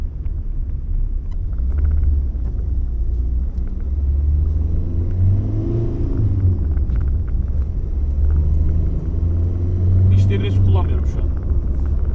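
A manual-transmission car drives along and accelerates, its engine a steady low rumble that rises with revving, while someone talks over it inside the cabin.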